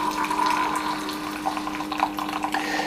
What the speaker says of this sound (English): there's another motor noise as water is drawn from the water reservoir back into the Mr. Coffee machine to heat up